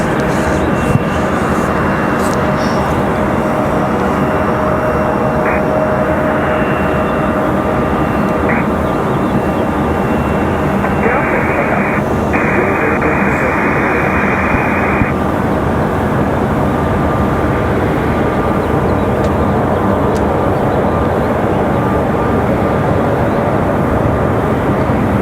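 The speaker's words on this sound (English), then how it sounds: "So we got American at 7:37, ready for departure." An American Airlines jet departing Raleigh-Durham International gives a sustained, loud engine roar that holds steady throughout, with faint intermittent tones over the rumble.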